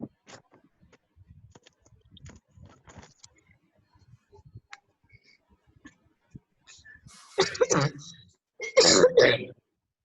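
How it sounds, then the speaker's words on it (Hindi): Two loud bursts of throat-clearing coughs right into a microphone in an online lecture, after quiet rustles and light clicks; the coughs are close and harsh, one around the middle and a louder pair near the end. "खांस लो, इसी में खांस लो, माइक खोल के खांस लो"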